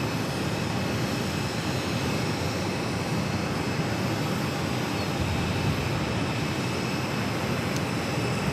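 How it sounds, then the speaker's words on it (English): An Alaska Airlines jet taxis at Phoenix Sky Harbor airport, its engines producing a steady, broad whine and rumble that holds constant and moderately loud, with no talking over it. "An Alaskan flight taxiing here."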